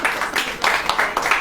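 Church audience clapping during a Hindi sermon, heard as a quick run of fairly steady rhythmic claps that rise and fall in bursts throughout the short stretch.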